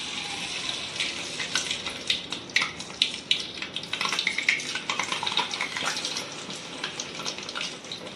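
Jalebi batter frying in hot oil, a steady crackling sizzle with bursts of sharper pops and bubbling throughout, close and fairly loud.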